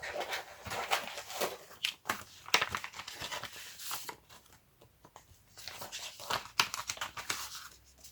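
Repeated short crinkly rips of faux tape being pulled and torn, close up, with rustling and handling noises in between and no talking.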